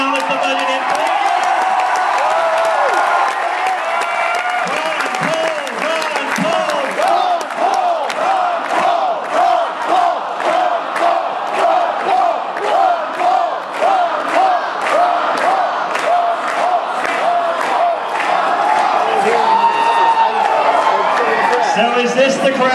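Rally crowd at a Ron Paul campaign event at KU roaring and cheering, with loud rhythmic chanting pulses through the middle and swelling again at the end, voices and shouts mixed in.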